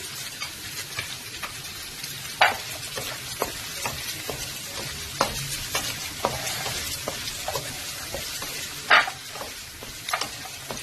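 Onion, green chilli and garlic frying in a pan for a cabbage carrot stir-fry, a steady close sizzle with repeated sharp clicks and scrapes of a spoon stirring, no voices.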